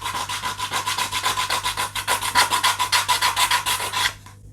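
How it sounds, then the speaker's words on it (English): Rapid back-and-forth rasping as the edges of a wooden autogyro model part are sanded, steady rhythmic strokes close up for about four seconds before stopping, with no talking. "I'm going to have to sand the edges to get it to go"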